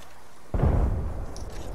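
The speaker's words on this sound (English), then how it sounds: "I'm throwing a frag grenade up there." Frag grenade going off in a shooter video game, a sudden low muffled boom that rumbles on briefly under steady background game noise.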